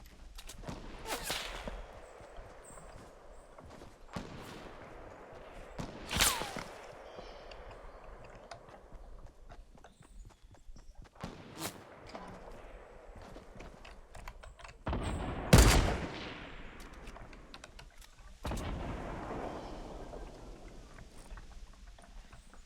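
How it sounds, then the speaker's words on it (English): Gunfire rings out in a Fortnite Battle Royale match. Sparse, sharp shots crack at irregular intervals, mostly distant, with one louder report partway through against a quiet background. "Shots going down over there."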